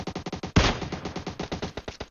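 Rapid automatic gunfire in PUBG Mobile, a steady burst of about twenty closely spaced shots with one louder blast partway through, loud and close with no talk over it.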